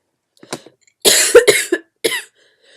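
A few sharp, snorting bursts of breath, like a nose being blown, come in short clustered blasts close to the mic, with no talking.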